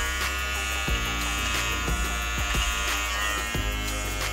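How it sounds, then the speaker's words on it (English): Electric clippers run steadily while shaving the face and cheek, a loud continuous buzzing hum close up with slight changes in tone as the blades move across the skin. "let the clippers ride the surface"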